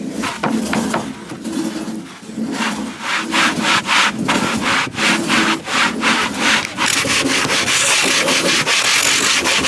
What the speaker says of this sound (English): and then you have to sand it